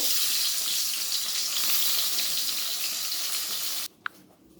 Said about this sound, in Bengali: আমার তেলটা গরম হয়ে গেছে, এবার মাছগুলো আমি ভেজে নেব